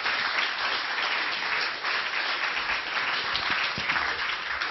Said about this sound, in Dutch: Mevrouw Borst, geef haar een hartelijk applaus.